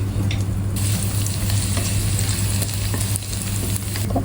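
Chopped garlic frying in a pan for fried rice, a loud continuous sizzle close by with repeated stirring scrapes and a low steady hum beneath.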